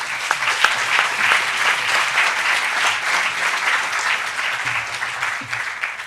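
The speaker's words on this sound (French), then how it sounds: "je vous demande de les applaudir au nom de tous" An audience at a conference gives sustained applause, dense and even clapping from many people that stays loud and steady for about six seconds, with no voices on top.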